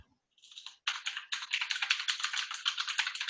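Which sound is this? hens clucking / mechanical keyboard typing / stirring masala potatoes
mechanical keyboard typing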